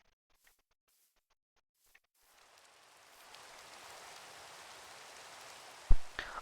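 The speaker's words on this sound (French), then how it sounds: "j'ai enlevé la pluie" Steady rain falls in the Minecraft video game, a broad hiss that fades in after a quiet start and holds at a moderate level, with a brief louder knock near the end.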